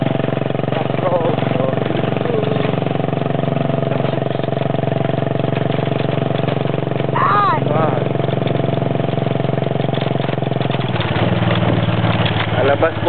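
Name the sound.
car engine while driving on a rough road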